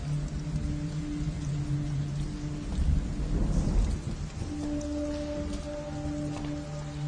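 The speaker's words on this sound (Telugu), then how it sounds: "వర్షం ఇప్పుడప్పుడే తగ్గేలా లేదు." Heavy rain pours steadily with a swell of rumbling thunder in the middle, broadband and close, alone without voices.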